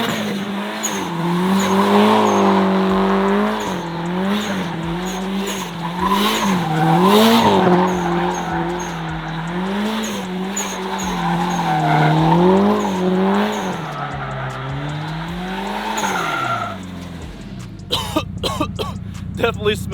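Engine revving and tires squealing as an STI-swapped Subaru Forester with an angle kit spins donuts, a continuous loud rise and fall of revs for most of the run before cutting off near the end.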